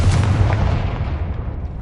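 A Confringo spell explosion in Hogwarts Legacy on PS5, a single heavy booming blast that hits hard at once and rolls off into a rumbling decay over about two seconds.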